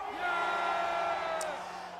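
Rally-goers in Gwangju let out a loud, massed shout that swells quickly and holds before slowly fading, with a brief sharp whoop near the end.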